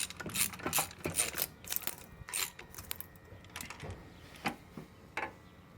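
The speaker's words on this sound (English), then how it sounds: "I believe you can hear the head gaskets crushing there." Cylinder head bolts being tightened by hand on a pair of 5.3 706 heads, the head gaskets crushing with a series of sharp, irregular metallic clicks and creaks, close and fairly loud, with no talking.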